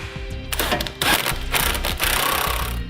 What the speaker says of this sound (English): I'm going to be using a 21mm socket to tighten up that bolt